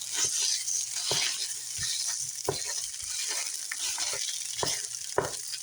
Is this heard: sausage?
yes